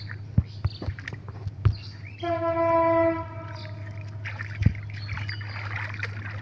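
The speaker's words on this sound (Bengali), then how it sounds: "এই যে রেল চলে এসেছে।" A train rolls past jute fields, its horn sounding one long sustained blast of a few seconds amid rumbling wheels and clanks, preceded and followed by sharp knocks and a steady low hum.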